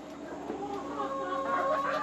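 Black-skinned chickens, two roosters and three pullets, cluck steadily and murmur together nearby, with a few higher squawking calls rising toward the end.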